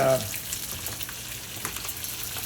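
Raw nuts fry in a little oil with thyme, giving off a close, steady crackling sizzle throughout, with a brief voice at the very start.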